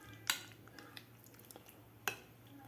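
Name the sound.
mixing broccoli into gram flour batter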